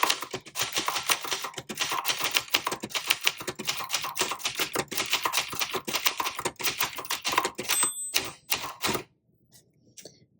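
Rapid, continuous key strikes on a 1980 Brother Charger 11 typewriter retyping a line, close and crisp, with a few mechanical clunks near the end before it falls silent.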